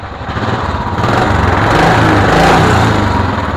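A motorcycle in fresh condition with about 22,000 on the clock runs loud and close, a steady buzzing drone that swells slightly as it revs, with no talking.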